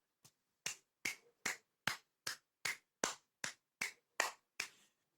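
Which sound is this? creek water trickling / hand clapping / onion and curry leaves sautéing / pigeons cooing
hand clapping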